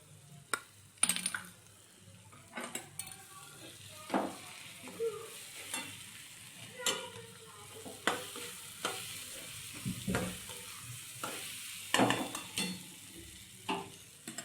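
Pulao masala frying in a pan just after Kashmiri chili goes in, with a steady low sizzle broken by repeated sharp scrapes and taps of a spoon stirring against the pan, close and moderately loud, no talking.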